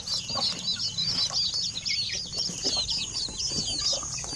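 Native Zampen chickens, including a young hen with chicks, cluck and chatter continuously at close range in a farm pen, a busy layered flock sound with no speech.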